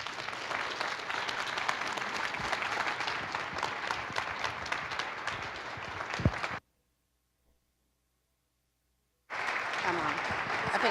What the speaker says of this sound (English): I want you to applaud my superintendent